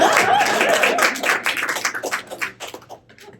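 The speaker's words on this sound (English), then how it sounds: "let's give a round of applause to Appleton," Audience at a bookstore author event applauding, a dense wash of claps that thins into scattered individual claps and fades out near the end.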